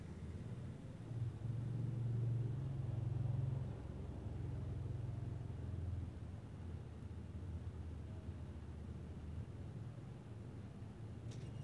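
Car engine in the game Rules of Survival, driving: a low, steady rumble that swells and hums louder in the first few seconds, then settles into a constant droning run with no talk over it.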